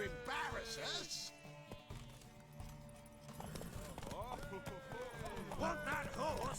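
Horse hooves clip-clop through The Witcher 3 game world, steady rhythmic steps near the listener, mixed with music, a neigh and other game sounds; a voice talks over parts of it.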